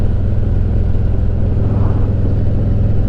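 A Harley-Davidson Road King motorcycle riding on cold, damp roads, its engine a steady loud low rumble with wind and road noise throughout.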